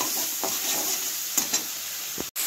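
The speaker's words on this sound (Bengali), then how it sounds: "লঙ্কা গুঁড়ো আর নুন দিয়ে ভালো করে ভেজে নেব" Bitter gourd frying with chili powder and salt gives a steady close sizzle, broken by light scraping strokes of stirring throughout.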